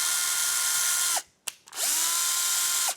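Bosch compact drill/driver motor whirring loud and close with a steady high whine, stopping briefly about midway and then spinning back up to full speed until the end.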